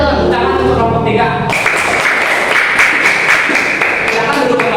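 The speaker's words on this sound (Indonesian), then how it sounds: "Tepuk tangan untuk kelompok 3." Students applaud group 3 in a classroom, a steady patter of many hands clapping close by, with a voice speaking at the start.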